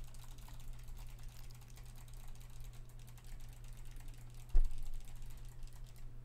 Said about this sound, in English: Oh, I was typing. I was typing.